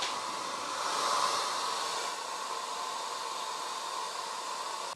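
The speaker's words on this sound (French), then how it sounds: "pour accélérer le mouvement, on va utiliser un sèche-cheveux" A hair dryer blows over a watercolour painting to dry it, a steady, even whoosh of air with a constant motor hiss that runs unbroken at moderate volume.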